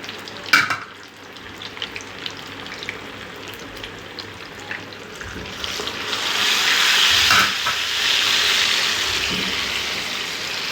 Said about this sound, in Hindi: फ़िश को डाल के आपने फौरी तौर पर उसको हिलाना नहीं है, थोड़ा सा उसको फ्राई होने देना है